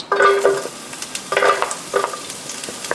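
Onions frying in canola oil in a pan for fried rice give a steady sizzle, broken by three louder bursts of stirring and scraping, with no voices.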